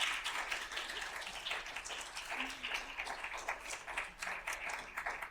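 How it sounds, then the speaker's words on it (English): Faint, distant audience applause for a panel of students and parents, soft continuous clapping heard at low level. "Can I get a round of applause for this panel?"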